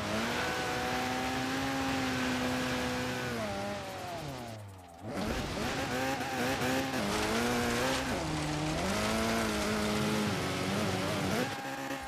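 A stanced Sunbeam rally build in Forza Horizon 3 holds a loud, high engine whine that drops briefly as it lifts off, then revs again with shifting pitch.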